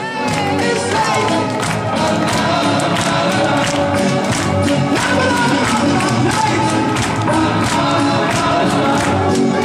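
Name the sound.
audience applauding and cheering for Rosette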